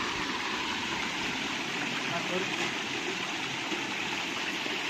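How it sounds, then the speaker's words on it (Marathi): Hillside water gushes from a pipe into a lake in the rain, a steady broad rushing flow, close and fairly constant. "हे बघा पाणी कसलं भारी बघा. आणि ते सरळ या तलावाला पाणी जाते पुढं."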